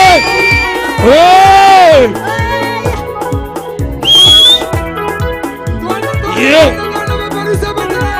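Church congregation at a Sunday service shouting and cheering in praise, with piercing whistles and high ululating cries rising over a steady, loud rhythmic beat in repeated waves.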